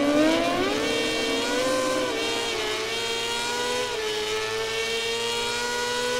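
A racing motorcycle engine in MotoGP 17 screams loud and near, its pitch climbing through rising revs and shifting gears in a sustained high whine with no talk.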